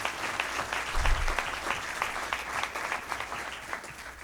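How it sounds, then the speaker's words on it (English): Audience at a Community Shelter Board awards breakfast breaks into steady, dense applause lasting several seconds, a thick wash of many hands clapping together with no voices above it. "would you please give yourselves a round of applause this morning"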